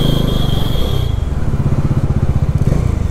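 A motorcycle rides through the bike lane of the Dhulagori toll plaza, its engine thrumming close and steady with a pulsing low rumble.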